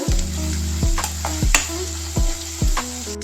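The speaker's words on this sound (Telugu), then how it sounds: "ఈ రెడ్గా ఎంతవరకు అయితే ఫ్రై చేసుకుందాం ఆనియన్స్" Onions fry in a pan, giving a loud, continuous sizzle up close, with several scraping stirs across it at a regular pace and no talk.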